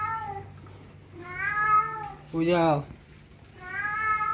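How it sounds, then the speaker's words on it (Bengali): A kitten meows indoors while rain falls outside, giving several drawn-out, close meows with a short spoken phrase from a person between them. "মিয়াও ছাড়া তো কিচ্ছু বুঝি না"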